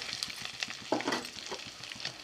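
Soft sizzling of chicken frying in a pan, with intermittent scraping and stirring sounds nearby, fairly quiet overall.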